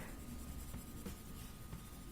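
Graphite pencil of a darker grade shading an apple drawing on paper, building darker tones with light hand pressure; a faint, steady scratchy rasp of lead on paper continues throughout without pauses.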